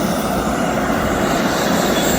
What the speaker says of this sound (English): John's airplane, War Dog, is an SMJ-5 Texan built in Dallas, Texas, December 12, 1944